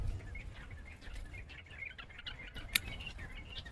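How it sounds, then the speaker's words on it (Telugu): Faint, sporadic bird chirps and tweets sound against a quiet rooftop garden background, with one brief sharper click. "పక్షుల కిలకిలా రావాలి"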